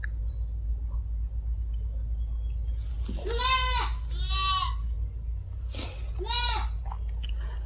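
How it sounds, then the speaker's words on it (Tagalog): Several goats bleat in a rural outdoor setting, three wavering calls close together in the middle of the clip over a steady low hum and insect-like background noise. "Ayun mga kambing."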